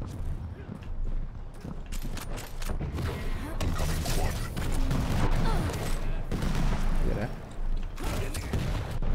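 Dense, rapid gunfire from the video game Quake rattles in quick overlapping bursts during a match, with clanks and mechanical clatter mixed in and players talking over the shooting.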